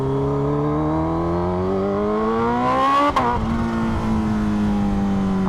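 A Kawasaki Ninja H2 or H2R motorcycle engine revs up and down loudly and close, its rising and falling tone blipping sharply with a twitchy throttle before settling to a steady drone.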